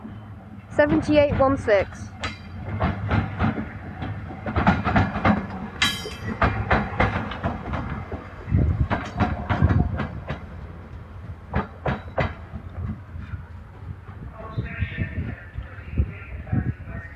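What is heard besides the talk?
train passing at Crewe station, Rugby to Carlisle service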